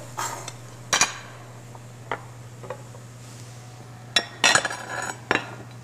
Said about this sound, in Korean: 그래서 한번 고기를 썰어 볼 텐데요